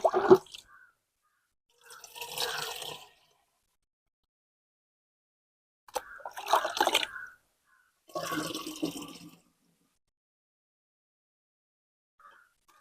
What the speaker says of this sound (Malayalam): ഇനി നമുക്കിത് ബക്കറ്റ് നമുക്കിത് സ്പ്രേയറിലേക്ക് ഒഴിച്ചു കൊടുക്കാം